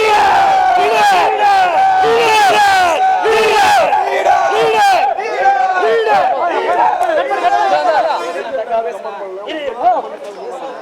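Big crowd cheering and shouting loudly for their leader, many voices roaring and calling out together in a continuous, dense din at close range.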